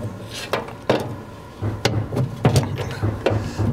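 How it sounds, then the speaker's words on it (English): The front drawer of an electronic device, freed after four front screws are removed, slides out with a series of clicks and knocks spaced about half a second apart, close and moderately loud. "the drawer then will just come out."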